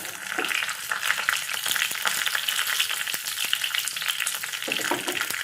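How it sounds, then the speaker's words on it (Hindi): Mustard seeds and two dried red chilies frying in hot oil for an Odia dahi baigan recipe: a steady, close, dense crackling sizzle with scattered pops, continuous throughout. "सरसो पकाइलु तार पछे दुईटा शुक्ला मरीच पकाई देम"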